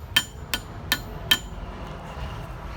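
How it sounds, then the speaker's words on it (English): A pop rivet is hammered on an anvil while adjusting the chain of a nunchaku, giving four sharp metallic strikes at uneven intervals, fairly close and alone in a quiet room. "Put it on the anvil, and then I hammer that"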